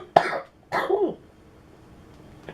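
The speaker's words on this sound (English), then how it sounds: "it's this dry cough" Two dry, harsh coughs from a single person, close and loud, with a short gap between them, followed by quiet room tone.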